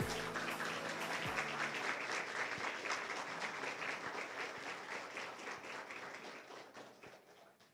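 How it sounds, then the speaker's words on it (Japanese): Applause for the Tegevajaro Miyazaki club at a J.League membership report event, dense clapping from a crowd that starts strong with a few sharp thumps and gradually fades over several seconds. "改めましてテゲバジュアル宮崎の皆さんに大きな拍手をお願いいたします。"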